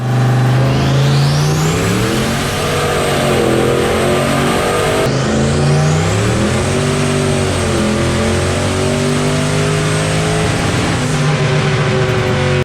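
A junkyard Ford 351 Windsor stroker engine making about 1,000 horsepower on a dyno, loud and close, climbing through two long full-throttle rev pulls with a roaring exhaust drone.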